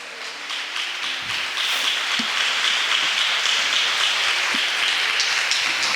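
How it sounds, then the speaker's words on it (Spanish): Church congregation applauding steadily, a dense sustained wash of clapping from many hands that fills the room without pause, with no talking over it. "Le podemos dar un fuerte aplauso al Señor."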